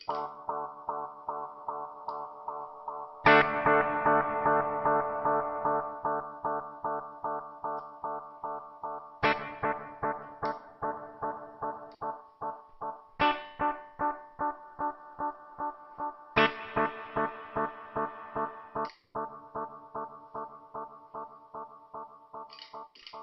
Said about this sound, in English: now in serial mode, the delay is being fed into the reverb